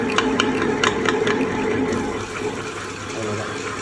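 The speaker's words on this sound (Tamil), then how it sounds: "இதை ப்ரெஸ் பண்ணிங்கன்னா இங்கே கிரைண்டரு ஓட ஆரம்பிச்சிடும்" A smart grinder churns batter with a steady, sloshing whir that runs continuously at close range, with a voice talking faintly over it.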